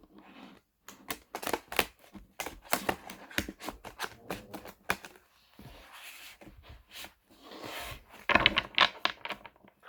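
Playing cards shuffled from the top rather than at the sides, giving a run of quick papery riffle and flutter bursts with brief pauses between them, close and fairly quiet.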